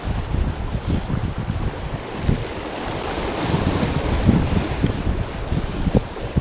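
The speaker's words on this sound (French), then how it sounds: "Surtout fais gaffe aux vagues." Sea waves break and wash along a shore where bass are fished from the bank with surface lures, steady surf rumbling under gusty wind buffeting the microphone, no talk.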